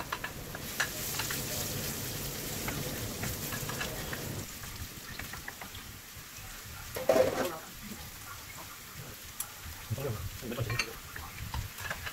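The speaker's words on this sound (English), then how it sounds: "Add in the ginger and fry until crispy." Ginger sizzles and crackles in hot oil in a wok, a dense frying hiss at first that thins into scattered pops, with occasional stirring clatter.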